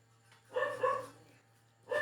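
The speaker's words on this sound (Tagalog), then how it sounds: "Ang aso sa amin napakaingay." A dog barks nearby in a quiet outdoor setting, with two or three short yapping barks spread over about two seconds over a steady low hum.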